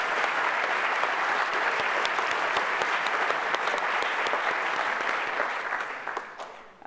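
Audience applause for youth award nominees and their nominators at a city youth recognition ceremony, a full, steady wash of clapping from a large crowd that holds evenly before tapering off at the end.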